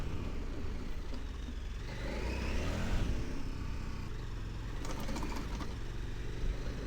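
A 2026 KTM 1390 Super Adventure S EVO engine working under throttle on a groomed dirt track, a steady loud drone that swells into a rev near the middle before settling back, with no talk over it.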